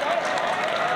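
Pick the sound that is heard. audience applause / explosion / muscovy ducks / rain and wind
audience applause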